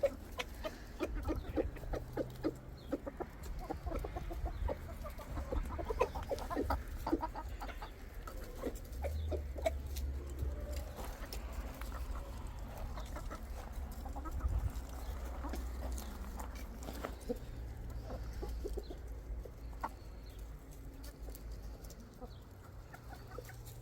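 Rooster clucking to call hens over to food in a backyard flock in Mexico, steady repeated clucks amid other chicken and bird calls, moderately close, no talking.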